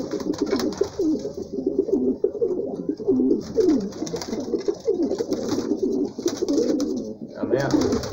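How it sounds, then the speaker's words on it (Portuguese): Bronze pigeons coo steadily and continuously outdoors, overlapping low rolling calls at moderate volume with faint background noise. "Tem uns pombos novos na área aí"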